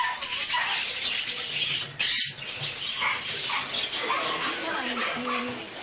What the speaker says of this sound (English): You can hear the yips and barks 3 stores away.